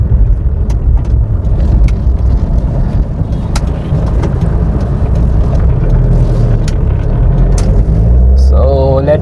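A 2008 Tata Indica V2 hatchback drives on a road, giving a steady, loud, low engine and road rumble throughout with occasional sharp clicks, and a voice talks briefly near the end.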